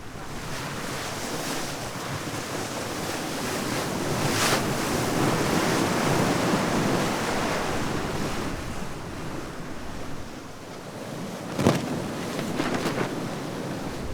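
Steady rushing sea wash with wind noise on a boat crossing the Pacific Ocean, continuous and fairly loud, with a couple of brief sharper splashes against the hull.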